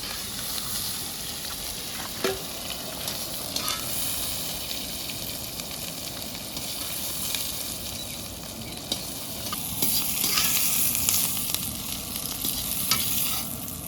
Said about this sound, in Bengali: বেশি তো ভাজা যাবে না, হালকা ভাজতে হবে।